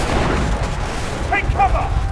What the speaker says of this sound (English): The enemy is in range! They're firing!